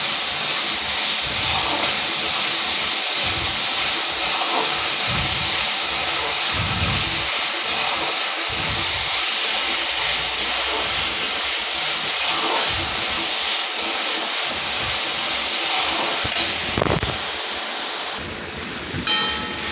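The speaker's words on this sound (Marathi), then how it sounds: "गॅस मोठा केला आहे, मोठ्याच गॅसवर आपल्याला भाजायचं आहे" A gas stove burner on high flame gives off a steady, loud roaring hiss that continues throughout, broken by faint clatter. It fades a little near the end.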